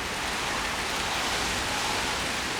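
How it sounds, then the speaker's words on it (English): Steady rain pours down on a wet, cold morning in a yard, a dense, even hiss of drops on wet surfaces heard up close with no voices. "Yeah, it's raining again."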